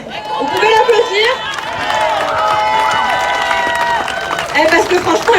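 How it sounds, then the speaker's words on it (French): Audience at a talk in Marseille claps for a young man being introduced, with cheering, whistles and voices mixed into the applause. "Vous pouvez l'applaudir."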